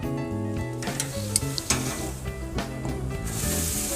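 A bourbon apple marinated pork tenderloin is flipped on a grill and sizzles steadily, with brief scraping touches, under louder background music.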